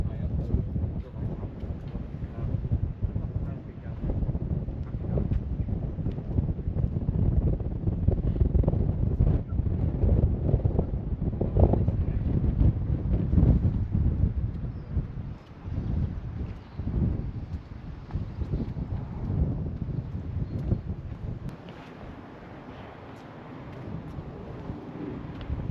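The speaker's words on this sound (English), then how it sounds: "Hopefully you can hear me because it's quite windy up here" Wind buffets the microphone at a high vantage point on Richmond Castle, a steady low rumble and roar that runs throughout with gusty swells, easing slightly near the end.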